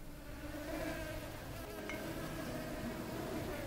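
Flies buzz steadily on a crystal in the Supraland video game, a soft continuous insect drone with no talk over it.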